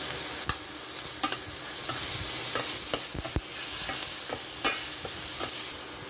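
Tomatoes frying in a pan while being stirred, a continuous close sizzle broken by sharp scraping and clacking strokes of a utensil at irregular intervals.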